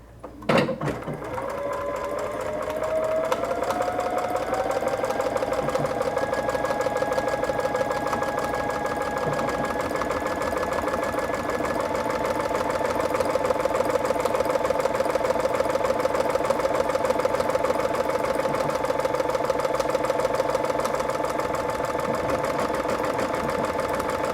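A sewing machine stitching automatically, starting with a clunk and then running at a steady, fast mechanical whir with a rising tone for over twenty seconds, loud and close.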